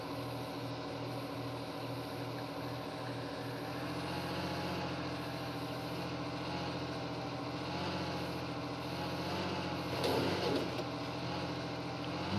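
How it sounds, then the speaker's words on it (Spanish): Steady low engine drone of a tractor watering crops in a farming video game, a constant mechanical hum holding for the whole stretch with a brief rougher burst near the end and no talk. "Y regaríamos también con el tractor."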